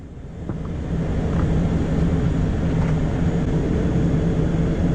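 Air North airliner engines drone steadily while taxiing to runway 14, a loud, continuous low hum with a sustained tonal whine, rising slightly in the first second and then holding level, with no talking.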